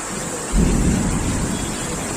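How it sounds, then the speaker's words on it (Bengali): Heavy rain pours steadily outdoors while a deep roll of thunder swells up partway through and rumbles on, loud and close. "কিন্তু বাইরে প্রচুর বৃষ্টি হচ্ছে।"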